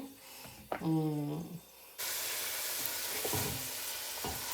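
Onions and celery drop into a hot pan with garlic and crushed red chilli flakes. After a brief stir and some faint talk, a sudden loud sizzle starts and keeps crackling steadily.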